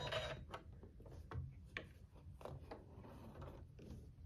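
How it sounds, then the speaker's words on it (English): An embroidery machine working on a quilt block cycles its needle down and up, giving a run of close, quiet mechanical clicks and light ratcheting taps over a low hum. "So I'll just do our needle down and up."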